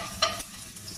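Garlic fries in a pan for Filipino-style spaghetti, a brief, faint, steady sizzle with one quick clink of a utensil near the start.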